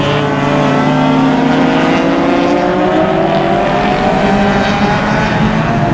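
Closed-wheel race cars at Mission Raceway scream past on track, loud and continuous engine notes overlapping and sliding in pitch as several cars rev and accelerate through the course, with no voices present.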